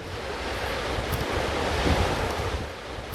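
Sea waves washing onto the shore at Kanyakumari, a steady loud roar of surf mixed with wind buffeting the microphone, continuous with no distinct breaks and no voices.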